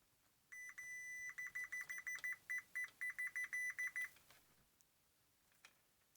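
A multimeter emits a series of short, sharp continuity beeps, one long tone followed by about a dozen rapid pulses, as probes are touched to the pins of a 1980s Atari joystick, quiet and close with no talking.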